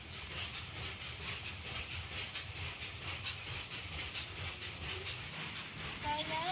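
Fire burning in a clay stove beneath a wok, a steady, dense roaring hiss with faint crackle, close and continuous, while a person talks over it.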